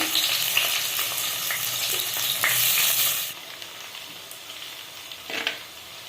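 Shallots frying in oil with cinnamon, cloves and cardamom for pepper chicken give a loud, dense sizzle that drops to a softer crackle halfway through, with a few stirring scrapes near the end.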